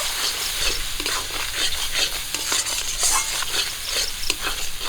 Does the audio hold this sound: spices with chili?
yes